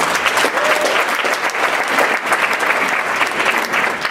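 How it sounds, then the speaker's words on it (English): Audience applause filling the room, a steady dense burst of clapping from a crowd lasting a few seconds without pause. "So let's give a round of applause"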